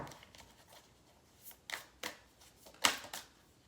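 A deck of oracle cards being shuffled: several quick riffling bursts, close and crisp, coming in uneven bunches with short pauses between them.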